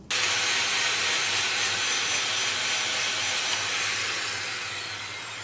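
A saw or grinder cuts through metal beams on Italian farm machinery, a steady loud harsh grinding that holds nearly unbroken for several seconds and tapers slightly at the end, with no voices.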